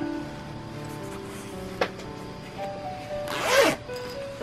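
A zipper on the outer pocket of a handmade sacoche bag is pulled in one quick, loud, close rasping stroke, with a light click shortly before it and a quiet room around it.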